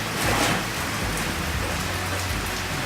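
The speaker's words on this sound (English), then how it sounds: "it's raining again" Steady rain pours down, a dense hiss of drops hitting a surface with a low rumble underneath.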